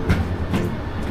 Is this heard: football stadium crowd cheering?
no